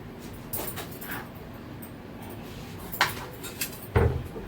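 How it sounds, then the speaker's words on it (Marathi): Brinjal (eggplant) cut with a knife in a home kitchen, a few crisp chopping taps landing against a quiet background with no talk. "तर हे बघा वांगी आता मी कापून घेते"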